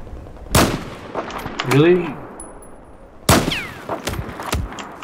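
Sniper rifle shots in the Battlefield video game: two sharp, loud single cracks a few seconds apart, with a short spoken reaction and game sounds between them.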